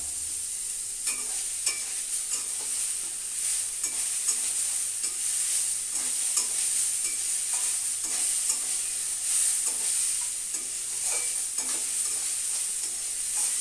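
Pre-fried chickpeas and peanuts are stirred into a hot pan of radish curry, a steady bright sizzle running throughout with repeated scraping strokes of the spoon, no voices present.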